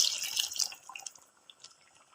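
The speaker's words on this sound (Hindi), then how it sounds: "अब हम इसमें पानी ऐड करेंगे" About a glass of water poured into a pot of fried potatoes while cooking aloo chicken curry: a brief splashing rush at first, then scattered drips and trickles fading out, close by with no talking.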